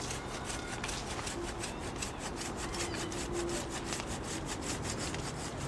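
A hand saw cuts through a cherry tree branch stub with rapid, steady back-and-forth strokes, close and continuous, each pass giving a rasping scrape of teeth through wood.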